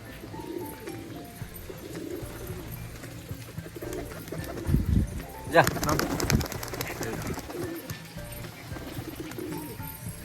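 Domestic pigeons coo softly at a home loft in the rain, with low murmuring calls under someone talking, then a brief burst of flapping or rustling midway.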